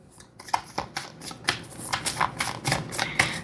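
Tarot cards are drawn and shuffled close up in a quick run of papery riffles, flicks and slaps, irregular but nearly continuous across the whole stretch, with no talk.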